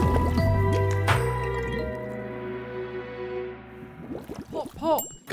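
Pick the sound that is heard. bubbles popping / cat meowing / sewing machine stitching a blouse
bubbles popping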